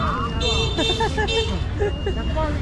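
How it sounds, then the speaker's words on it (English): Busy street noise in Xi'an, China, during Spring Festival, with traffic and crowd chatter, where short car horn toots cut through near and far amid voices. "The most I've heard in China. Lots of honking."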